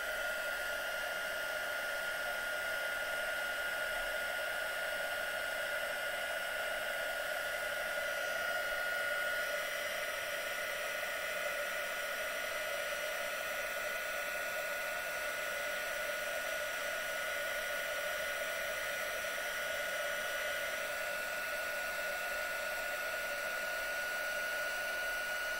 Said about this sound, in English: so heat up heat gun.